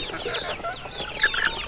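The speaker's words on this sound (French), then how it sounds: "Ici, nous produisons les poules locales et les dindons." Local chickens on a poultry farm in Togo cluck and chirp in a busy, overlapping chorus, with a couple of sharper, louder calls standing out near the end.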